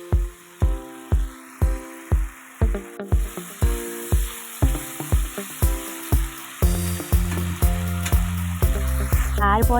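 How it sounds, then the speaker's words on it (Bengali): Masala sautéing in a pan for a Bengali tilapia fish curry, a steady oily sizzle with regular rhythmic stirring strokes repeating close by, no talking. "ভালোভাবে কষে নিতে হবে, যাতে কাঁচা গন্ধটা একেবারেই না থাকে।"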